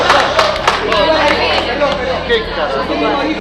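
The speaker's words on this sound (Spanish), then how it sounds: "¡Otro aplauso!" An audience gives a short burst of clapping amid crowd chatter and a babble of voices, fairly loud and close, at a Spanish-language event.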